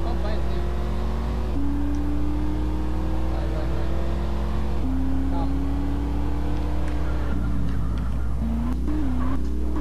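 A car engine in GTA San Andreas drones steadily throughout, its pitch climbing and shifting as the vehicle revs and changes speed, with players talking over it.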